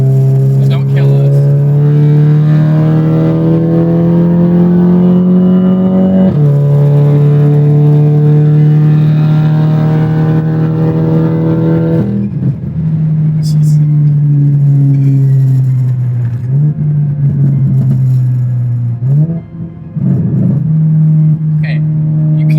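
An MK7 VW GTI revs and accelerates loudly from inside the cabin, its engine note climbing through several gear changes with brief dips between shifts, as occupants talk over the steady drone.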